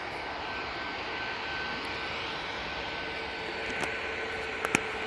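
EasyJet airliner engines at Manchester Airport: a steady, broad jet roar held at a constant level throughout, with a faint whine and a few brief clicks near the end.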